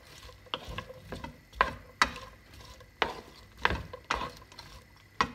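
Peppers and other vegetables for tchakchouka being stirred in a pan, with a series of distinct scraping, clattering strokes at an uneven rhythm, close and fairly quiet, with no talking.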